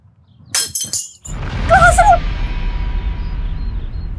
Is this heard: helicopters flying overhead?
no